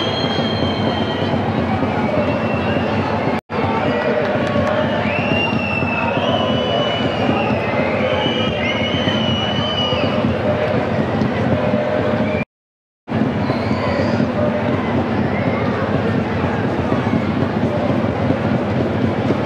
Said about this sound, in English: that is why you are hearing the whistles and the jeers from the home crowd now, aimed at Karolina Wacker.